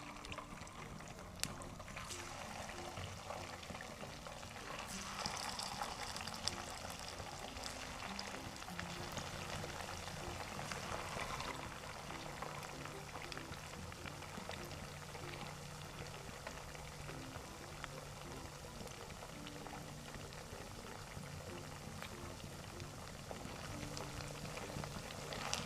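Leftover rice pakoras deep-frying in hot oil in a kadhai, a steady, faint bubbling hiss that continues evenly throughout.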